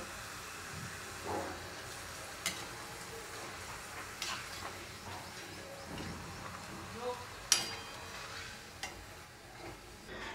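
Sabudana and potato chakli frying in hot oil, a faint steady sizzle and hiss with occasional stirring clinks and sharp pops, a voice speaking over it at times.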